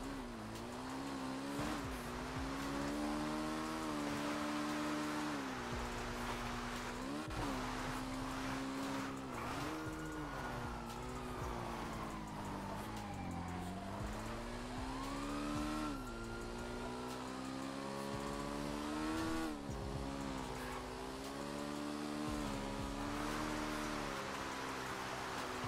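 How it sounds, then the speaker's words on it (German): A car in a GTA roleplay game pulls away slowly and carefully, its steady engine tone rising and falling through gear changes, with faint tire squeals over a continuous drone. "Ganz vorsichtig fahre ich hier weg."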